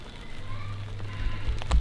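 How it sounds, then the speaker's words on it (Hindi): Rain falls on a home garden planted with guava and banana trees, a steady close hiss of drops with a low rumble underneath for a couple of seconds. "बारिश हो रही है"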